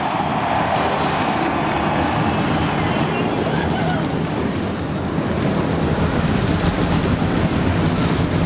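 Several NASCAR stock car engines start up and roar at Bristol Motor Speedway before the 2002 Food City 500, a loud, dense, continuous rumble filling the whole stretch with crowd and wind noise mixed in.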